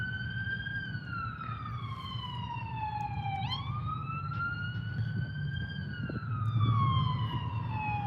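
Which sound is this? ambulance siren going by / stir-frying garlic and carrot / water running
ambulance siren going by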